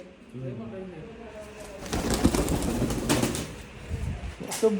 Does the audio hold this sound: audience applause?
no